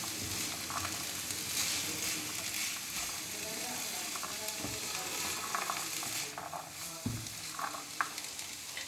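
Boiled sweet corn kernels are stirred together for chaat, giving soft, repeated scraping and clattering strokes in a bowl, quiet and continuous.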